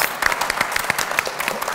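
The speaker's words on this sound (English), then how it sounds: "can we give a round of applause?" Audience applause at a bell hooks memorial event, a dense crowd of hands clapping steadily and fairly close for the whole stretch.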